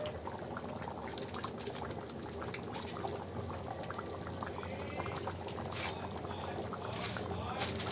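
Food seasoned with turmeric boils in a pot during cooking of the puja offering, a steady close bubbling and simmering that continues throughout. Faint voices can be heard in the background.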